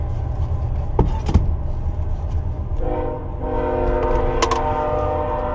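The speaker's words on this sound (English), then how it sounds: "Wow, that train is rude." A train rumbles past close by and sounds its horn, a sustained chord of several loud blasts that rises over the rolling noise, with brief knocks just before.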